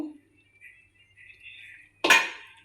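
A metal pot of lentils cooked with cucumber is lifted off the stove, ending in one sharp, loud clank of metal, with faint quiet sounds before it.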